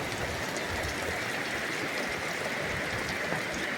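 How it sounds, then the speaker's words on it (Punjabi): Heavy rain pours steadily on a grain market in Punjab in a dense, continuous hiss, with no voices. "ਇਸ ਤਰ੍ਹਾਂ ਮੀਂਹ ਜ਼ੋਰ ਦਾ ਪੈ ਰਿਹਾ ਜੀ"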